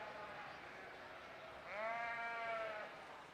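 A sheep at a junior breeding sheep show gives a single clear bleat in the middle, fairly faint and a little distant, over quiet hall background noise.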